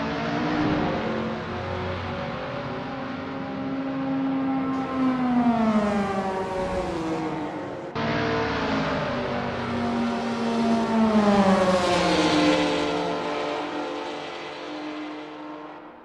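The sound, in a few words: Mini Marcos MK1 GT race car engine accelerating in Assetto Corsa video game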